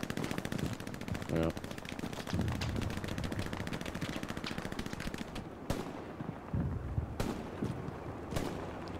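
Rapid automatic gunfire from an SMG and machine guns in a video game firefight, dense bursts crackling nearly nonstop with sharper isolated shots toward the end, under brief speech from a player.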